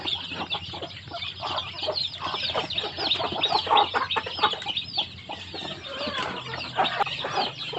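A flock of chickens, from small chicks to grown birds, clucks and chatters continuously at feeding time on a farm, with dense overlapping calls close by and occasional wing flaps.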